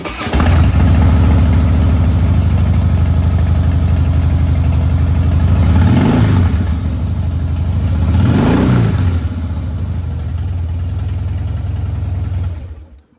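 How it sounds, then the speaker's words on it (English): A 2015 Harley Davidson Heritage Softail motorcycle starts up and settles into a loud, deep, lumpy idle, with two distinct throttle blips rising and falling in pitch before the engine cuts off at the end. "We'll get this bike fired up."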